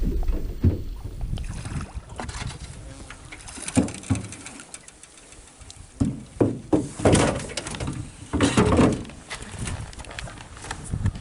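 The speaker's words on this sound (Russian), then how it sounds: "Ну вот, друзья, отчаливаем от берега" A boat pulls away from a riverbank at the end of a fishing trip. Knocks and thumps of the hull and gear and splashing water come in uneven bursts, close by, over steady outdoor ambience, with birds cooing nearby.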